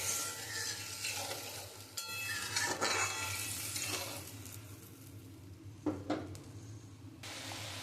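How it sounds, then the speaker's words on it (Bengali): Water poured into a pan of mustard rohu fish curry, a soft splashing pour with sizzling and bubbling, followed by quieter simmering and a couple of brief clinks of utensils. "আমি এবার পরিমাণ মতন জল দিয়ে দেবো।"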